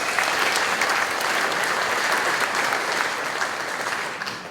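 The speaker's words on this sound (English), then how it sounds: "Give yourselves a round of applause." Audience applause at a community launch event for a renewable energy initiative, a dense, steady wash of many hands clapping that holds loud and even for the whole stretch.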